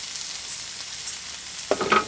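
Butter, rice and shrimp fry in a pan at an outdoor campsite cooking setup, a soft steady sizzle with a burst of stirring and scraping near the end.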